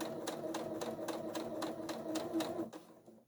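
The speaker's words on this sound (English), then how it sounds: "I'm going to start top stitching along this edge." Sewing machine top stitching along the edge of a fabric triangle zipper bag, a steady rapid mechanical whirr with regular needle ticks, close and continuous, stopping abruptly near the end.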